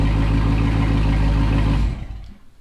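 A car engine idles loudly and steadily in an enclosed garage, a dense rumble echoing off the walls, then it cuts off near the end and the sound fades away.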